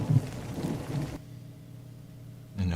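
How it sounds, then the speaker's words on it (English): Recorded rain plays during a sound bath at Mystic Village, a steady hiss with low rumbles that cuts out abruptly partway through, leaving a quiet hum before the sound returns near the end. "I'll turn off the rain"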